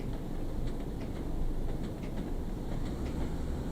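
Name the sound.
train on the Tees Valley Line in the video game Train Sim World 2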